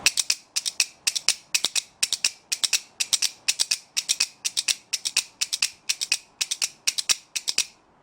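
A rapid, steady series of sharp clacks from a kuaiban bamboo clapper, about two per second, crisp and close with no voices.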